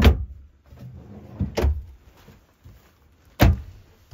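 Drawers in a new 2024 Northwood Arctic Fox 275L RV slide and bump shut in three sharp knocks, with quiet rolling movement in between, close by and without talk.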